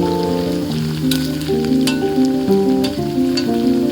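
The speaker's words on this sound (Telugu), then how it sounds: "అవి బ్రౌన్ కలర్లో వచ్చేదాకా అలా ఎక్కువగా కలుపుకుంటూ ఫ్రై చేసుకోండి." Cauliflower pieces frying in a little oil, stirred until browned, giving a steady close sizzle over a sustained tonal backing that sounds like music, with a few soft stirring clinks.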